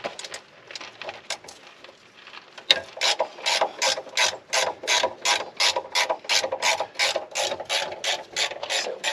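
A ratchet turns a 10 mm socket on an extension during a 1000-hour service on a CAT 299D3XE. Light handling taps come first, then a close, steady run of quick rhythmic clicks with no voices.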